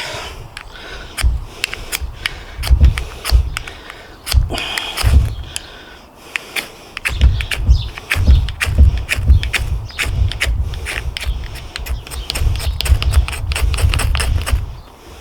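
A Cold Steel Survival Edge knife's edge scraped repeatedly to throw sparks for lighting a fire outdoors, giving loud, rapid rasping strokes in uneven bursts with short pauses between them.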